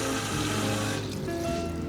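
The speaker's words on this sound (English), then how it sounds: "I'm going to put a good amount of water in there." Water poured into a pot of simmering tomato sauce for lasagna, a steady broadband rush of filling liquid that runs continuously and close by, easing slightly in the second half.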